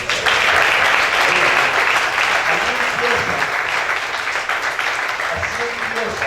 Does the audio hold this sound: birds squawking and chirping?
no